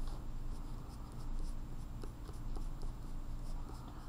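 Colored pencil scratches across paper in quick, short strokes, close and quiet, with a steady rhythmic texture.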